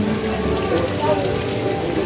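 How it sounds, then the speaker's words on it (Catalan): Light rain falling outdoors at a Christmas-time amusement park in Germany, a steady soft patter and hiss heard throughout the short moment. "Plou una mica."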